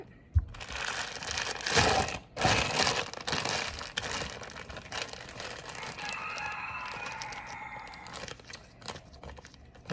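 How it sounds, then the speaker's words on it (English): A faint rooster crows in the distance, rising briefly behind close crinkling and scraping while clay palettes are handbuilt for ceramic painting. "I think you can hear the angry rooster in the background."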